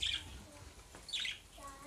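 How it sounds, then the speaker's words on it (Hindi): Pet parrots let out two sharp, shrill squawks about a second apart, moderately close in a home kitchen, with faint chirps and room noise between them. "ए तोतिआं ने पाई हुई जी खप अज।"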